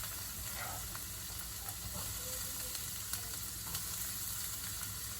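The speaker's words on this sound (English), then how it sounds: "I'm gonna put the onions in." Onions dropped into smoking-hot oil for beet greens give a steady, fairly quiet sizzling hiss with a few faint crackles, and no one talks over it.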